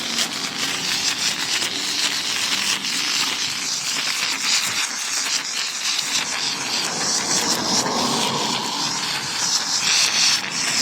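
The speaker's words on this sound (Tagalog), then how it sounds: "Ang aking fully automatic foaming machine." A fully automatic foaming machine running while filling a car with foam, giving a loud continuous hissing, spraying rush that stays steady throughout with slight fluctuations.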